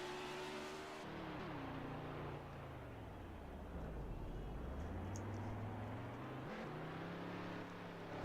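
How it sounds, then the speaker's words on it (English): A car engine in a NASCAR racing video game drones steadily at a moderate level, with pitch sweeping down through a gear change and climbing back up as the car accelerates. "I gotta stop. The car's too loud."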